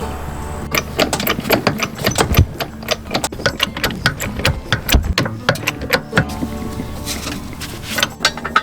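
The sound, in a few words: breaking free trailer wheel lug nuts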